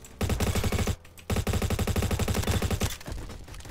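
Honey Badger rifle firing in a multiplayer shooter game, loud close full-auto bursts of rapid evenly spaced shots, a short pause, then another long sustained burst fading into quieter game noise.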